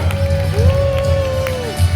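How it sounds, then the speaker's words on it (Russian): An audience at a festival gathering cheers and claps, a loud continuous crowd noise with rhythmic clapping beneath and a sustained tone above it, while a voice speaks over the crowd. "Под ваши аплодисменты просим, дайте поддержку, дайте шума"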